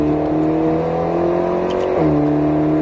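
An Alpine A110S accelerating on the Grand Circuit du Roussillon, its engine a steady loud drone heard from inside the car, rising in pitch with a brief dip around a gear change.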